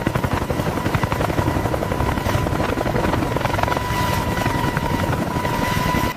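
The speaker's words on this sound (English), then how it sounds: "The seven-blade rotor engages smoothly, absorbing massive torque as rotation increases in a controlled," CH-53K heavy-lift helicopter with a seven-blade rotor spinning up, a steady loud chopping drone with a constant whine running throughout.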